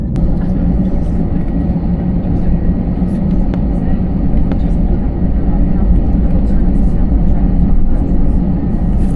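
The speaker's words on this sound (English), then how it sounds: "We depart from the gate area past a row of West Atlantic Airlines Boeing 737 cargo aircraft, beginning our slow trundle out to the runway." Boeing 737-class airliner taxiing slowly from the gate toward the runway, heard from inside as a steady, loud low engine rumble and cabin drone with faint rattles throughout, no talking.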